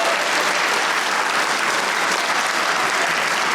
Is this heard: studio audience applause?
yes